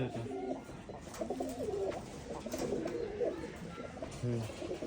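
Pigeons at a pigeon farm coo in repeated low, rolling phrases, several birds close together, with faint background chatter of voices.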